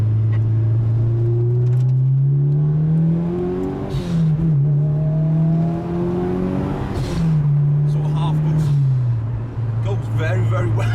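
A Mitsubishi Evo 6 engine revs and accelerates through several rising pulls, each ending in a sharp hiss from the blow off valve, with the drone loud and close inside the car. A voice speaks over it.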